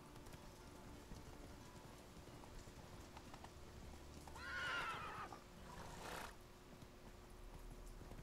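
Roach, a horse in The Witcher, gives one clear whinny and hooves clip-clop over a quiet outdoor backdrop, no talk, the neigh rising loud midway and then fading.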